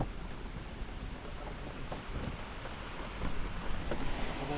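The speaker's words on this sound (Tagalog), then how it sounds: "Oh, lumihit yung hangin." Wind blows outdoors during rain near a newly fenced field, a steady rushing roar with gusty buffeting on the microphone that grows louder toward the end.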